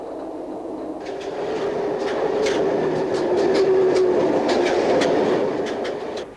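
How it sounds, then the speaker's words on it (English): Brake blowdown valves on a Class 321 electric multiple unit train hissing during step 3 braking with wheel-slide protection active, a steady rumbling roar with a string of short sharp bursts and clicks, close and loud, no voices. "we can hear the blowdown valves actuating"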